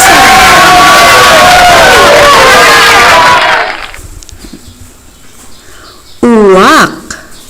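Ducks quack in a dense, loud overlapping chorus for several seconds, then fall quiet before a single close, nasal quack near the end.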